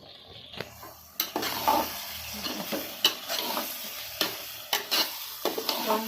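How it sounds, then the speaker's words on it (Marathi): Washed prawns go into a pan of frying biryani masala and are stirred; soft sizzling runs throughout, broken by sharp scraping knocks of a spoon against the pot at irregular intervals, close-up, with no talking. "हे जे आपण प्रॉन्स आहे ना हे धुवून ठेवलेले आहे मी ते आपण त्याच्यात टाकूया"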